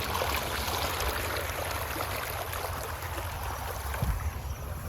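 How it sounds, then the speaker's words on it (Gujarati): Water runs steadily through a farm irrigation channel in a village, a continuous close rushing and gurgling with no speech over it. "હારી જો પાણી ચાલુ જ છે કમ્પ્લીટ."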